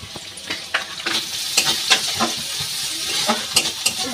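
Chopped onion dropped into hot oil with garlic, bay leaf and dried chilli, giving a loud close hiss with quick irregular stirring clatters over it and no speech.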